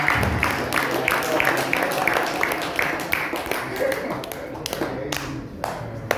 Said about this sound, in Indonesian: Tepuk tangan dulu, jangan pegang.